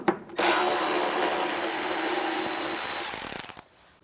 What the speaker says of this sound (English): Take those out. And that's the same 7mm socket.